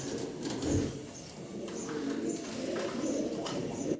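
Andalusian-coloured Damascene pigeons cooing nearby in soft repeated low calls, with faint chirps and rustling in the background.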